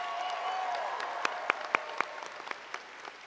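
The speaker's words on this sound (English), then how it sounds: "let's make some noise for our families and friends that came out to support us today" Commencement crowd at John Tyler Community College applauding and cheering, a dense wash of clapping with a few louder individual claps standing out, heard from within the audience.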